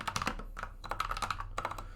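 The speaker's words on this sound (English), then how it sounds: "It's just a little typing test on my keyboard" Fingers clatter on a computer keyboard during a quick typing test, close and fairly soft bursts of rapid key presses with short pauses between runs.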